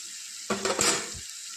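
Onions and green chillies go into a hot pan for an egg kothu-style stir-fry, a sudden sizzling burst that flares up with some scraping and stirring clatter, then settles into a softer hiss.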